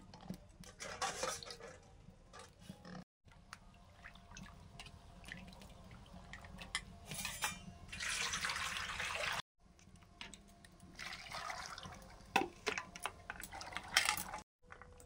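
Eggs rinsed under a running kitchen tap, water splashing and trickling in uneven bursts with clinks and knocks from handling, broken by a few short silent gaps.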